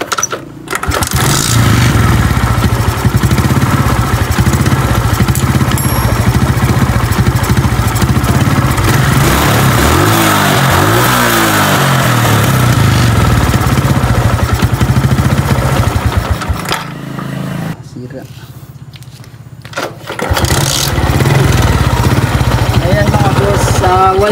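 A motorcycle engine idling unevenly and misfiring after a standard adjustment, loud and close, sputtering with an irregular rhythm and briefly dipping before picking back up.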